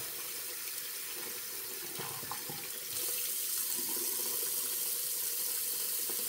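A tap runs steadily onto hard shaving soap in a sink, a continuous close hiss and splash that swells slightly partway through, with no one speaking.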